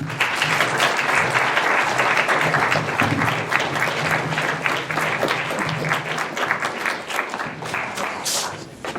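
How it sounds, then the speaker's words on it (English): A meeting audience applauds after a speech, with sustained, dense clapping from a full room. It stays loud for several seconds and tapers slightly near the end. "let's give another round of applause"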